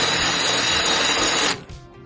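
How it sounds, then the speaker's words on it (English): A drill grinding out a spot weld in the sheet metal body of a 1999 Chevy Express van, a loud, harsh whine held for about a second and a half before it stops abruptly. "Doing my best to find the center of that spot weld. And then I'm drilling it"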